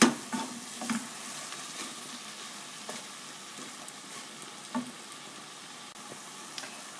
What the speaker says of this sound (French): Je mélange en continu et dès que mon riz a absorbé tout le bouillon, j'en remets une louche.